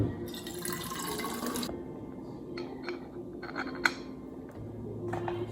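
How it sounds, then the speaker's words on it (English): Water poured into a bottle while making a strawberry matcha latte, a steady splashing fill at the start followed by short drips and clinks, close and fairly loud. "So we'll add some water."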